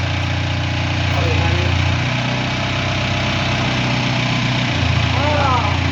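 A low truck engine, a large-wheeled tractor unit, idles steadily throughout, a constant rumbling drone with faint voices murmuring in the background.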